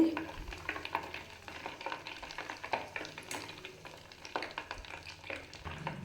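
Buffalo butter simmering down into ghee in a pan, a soft steady sizzle and fine crackle with occasional stirring scrapes, fairly faint and continuous.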